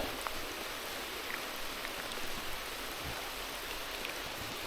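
Rain falls steadily on a river during a fishing outing, a dense even hiss with scattered drop patter, close and constant with no voices.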